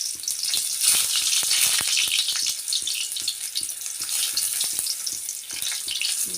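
Chopped tomatoes dropped into hot oil for a tomato chutney, a bright constant sizzle and crackle with rapid popping spatters of oil from the pan, heard close and alone.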